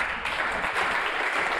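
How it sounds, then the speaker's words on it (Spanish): Audience applause fills a national political-cultural training assembly, dense steady clapping from a large crowd, loud and continuous throughout with no speech over it. "un aplauso para Aristóbulo."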